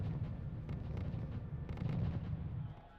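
Light artillery, a couple of 90mm Italian guns, firing in a R.U.S.E. desert battle: a continuous low rumble of overlapping distant booms and muffled blasts, steady and dense throughout.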